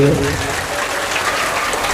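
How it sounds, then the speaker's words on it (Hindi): Crowd at a village gathering applauding donors, a sustained wash of clapping from many hands filling the whole moment, with some voices under it. "एक बार जोरदार तालियां सभी दानदाताओं के लिए"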